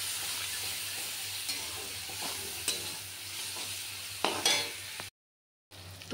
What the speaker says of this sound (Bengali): কাঁচা টমেটো দিয়ে মশলাটাকে ভালো মতন কষিয়ে নেব